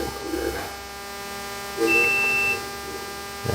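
A multimeter continuity test on a rebuilt GM instrument cluster gauge board gives a single clear, high electronic beep lasting under a second, over a faint steady background hum.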